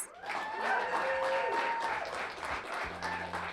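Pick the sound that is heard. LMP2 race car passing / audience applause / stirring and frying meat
audience applause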